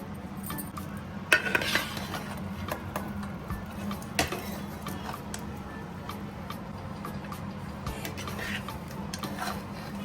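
Hot mutton biryani is stirred in a pot, with soft scraping and occasional sharp clinks of a utensil against metal over a low steady background hum.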